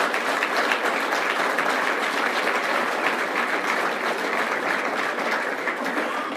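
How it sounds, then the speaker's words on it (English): A big round of applause for university students at a manufacturing industry event, a large audience clapping in a steady, dense, sustained roar that holds for over six seconds at full volume. "Let's give these students a big round of applause."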